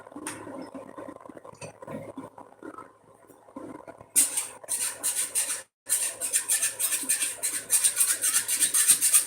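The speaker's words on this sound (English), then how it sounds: "So here I am scraping up the duct tape from the basketball court they made in the YouTube room" Duct tape being scraped up from an indoor basketball court floor in a game room, a steady run of rough rasping strokes that starts faint, turns loud and repeats rhythmically after a brief pause.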